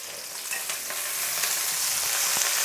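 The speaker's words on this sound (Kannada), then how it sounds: "ಇಷ್ಟೇ ಏನು ಒಂದು ಅರ್ಧ ಫ್ರೈ ಹಾಕ್ತೀನಿ ಸೊಪ್ಪು ಸೇರಿಸ್ತಾ ಇದ್ದೀನಿ ಈಗ" Leafy greens fry in a hot pan for a greens chutney, giving a steady, continuous sizzle with faint stirring scrapes throughout and no voices.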